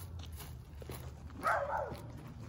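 A dog gives a single short bark midway, fairly faint against a low background hum, with no other barks following.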